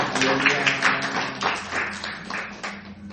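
A church congregation breaks into sustained applause, a dense clatter of many hands clapping together at moderate distance, with a few voices mixed in beneath it.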